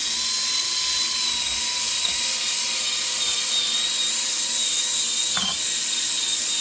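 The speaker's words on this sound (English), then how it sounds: "I am sanding down where I had flowers sticking up" A sanding tool works over a cured epoxy resin tray with pressed flowers, a steady high whine and hiss from the motor holding constant throughout, with a brief sharp change near the end, no talking.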